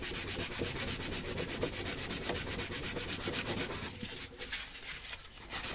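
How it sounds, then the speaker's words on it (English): Sandpaper rubs steadily back and forth over a model water diorama surface, a close, continuous rasping stroke in a fast regular rhythm that eases slightly near the end, with no talk. "We just literally sand it back as best you can"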